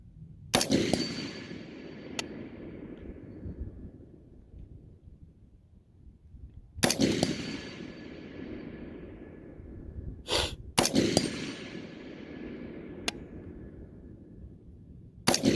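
Four rifle shots from a 16-inch Ballistic Advantage barrel firing Hornady Black 75 grain ammunition at a 100-yard range, sharp cracks spaced several seconds apart, each followed by a long fading echo, with a couple of faint distant pops between.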